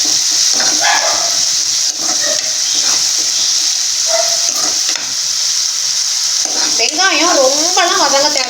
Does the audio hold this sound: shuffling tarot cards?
no